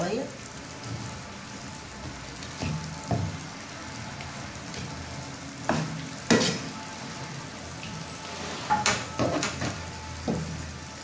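Garlic and harissa are stirred in a frying pan for Tunisian lasagna: a continuous sizzle runs under scattered clanks and scrapes as the utensil moves, with louder clacks landing at intervals, close and busy.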